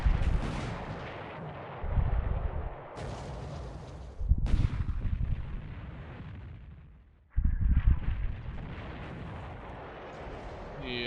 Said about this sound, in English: Oh, massive explosion.